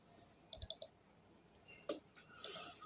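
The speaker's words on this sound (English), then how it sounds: "Double click." A computer mouse is double-clicked while working in Excel, giving a quick close pair of light clicks, with a few more faint clicks after it in a quiet room.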